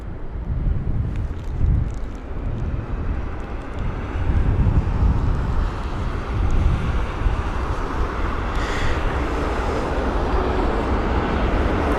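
Wind rushes steadily over a broad low roar as an Airbus A319 jet comes in to land on a windy day at London Heathrow, the noise swelling and easing without pause, with no talking.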